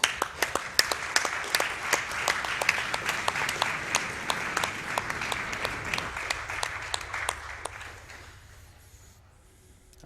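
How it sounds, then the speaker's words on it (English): Audience at the Awesome Games Done Quick 2016 marathon applauding after a Bloodborne speedrun, dense clapping with sharp claps standing out, fading and thinning near the end. "Another round of applause for him, please."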